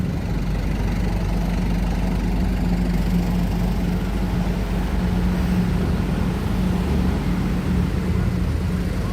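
A diesel locomotive stopped right at the edge of a main road idles with a steady, deep, droning rumble and a constant low hum, unbroken and close throughout.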